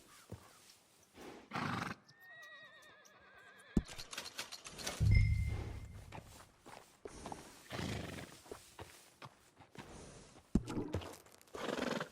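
A Dutch Warmblood horse in Red Dead Redemption 2 gives a loud, close whinny partway through, among hoof clip-clops and other game sounds, with no one talking.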